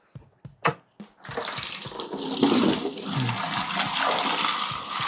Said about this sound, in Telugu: ఇదిగోండి స్పాంజ్ ఫిల్టర్ ఎప్పుడైనా ఇట్లా కడుక్కోండి